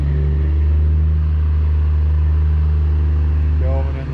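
A truck hauling beans from the bin to town during harvest gives a loud, steady low engine drone with a deep hum that holds throughout.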